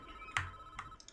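A phone rings in a Prison Architect game session, two or three short tonal bursts with a steady electronic tone between them, fairly close and clear with no talking.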